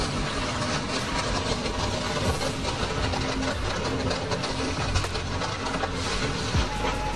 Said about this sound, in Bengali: যাক, অবশেষে ট্রেনটা থেমে গেছে